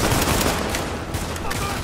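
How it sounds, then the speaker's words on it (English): Pistol fire in the video game Tom Clancy's The Division, heard as a dense, loud clatter of shots and combat noise over a brief stretch. "So I'm gonna use my pistol."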